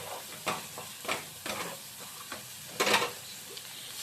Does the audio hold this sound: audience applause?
no